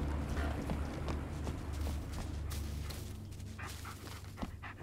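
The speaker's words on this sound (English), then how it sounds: "What are you barking at?" A dog barks in the Blair Witch video game, a few short barks heard faintly over a dense, rustling game soundscape with steady low background noise.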